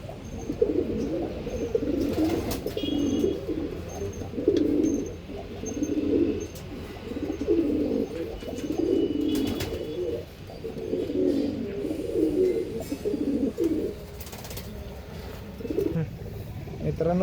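Andhra-line pigeons coo in a steady, repeating rhythm, close and fairly loud, with someone talking intermittently over the birds.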